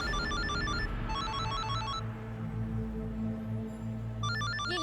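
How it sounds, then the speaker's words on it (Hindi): A mobile phone ringtone plays in a TV drama scene, a repeating electronic melody of quick high notes in bursts with a pause in the middle, over a low background hum and music. "फोन की आवाज कहाँ से आ रही?"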